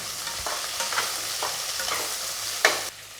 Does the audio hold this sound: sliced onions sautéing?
yes